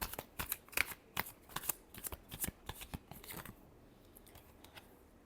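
Tarot cards are shuffled up close in a quick run of crisp riffling bursts for about three and a half seconds, fading into quiet room tone afterward, with no speech.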